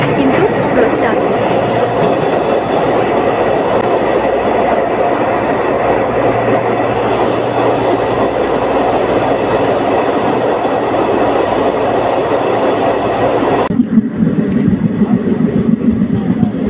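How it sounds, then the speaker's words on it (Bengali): A moving train carriage in Kashmir, on a rail journey toward Srinagar, gives a loud, continuous rumble with rhythmic clickety-clack from the wheels. The din drops and sharpens briefly near the end, and no one talks. "এই হলো কাশ্মীরের ট্রেনের কামরা, দেখুন।"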